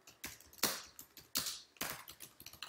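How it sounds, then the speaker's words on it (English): Typing on a computer keyboard, close and clear: quick bursts of clicking keystrokes in an uneven rhythm, with no other sound. "hey John, I guess you can see what I'm typing"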